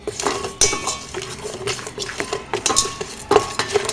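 A spoon stirs tempering seeds in a cooking pot for cashew khichdi, giving irregular metallic scrapes and sharp clinks against the pot, close and fairly loud, with no voices.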